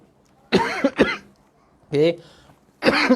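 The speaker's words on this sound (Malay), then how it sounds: "maaf, batuk sikit." Several close, loud coughs come in short bursts separated by pauses, a harsh throaty hacking with some voiced tone.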